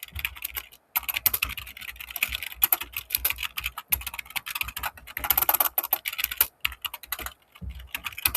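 Code is typed on a computer keyboard, rapid close clicking keystrokes in uneven bursts with brief pauses between runs, and no talking.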